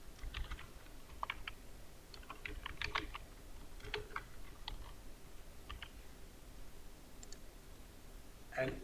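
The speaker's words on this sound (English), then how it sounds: "and type your organization name" Computer keyboard typing at close range, a steady run of light clicking keystrokes in bursts with short pauses, no talking.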